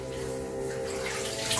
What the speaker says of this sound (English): we drained it and are filling it back up again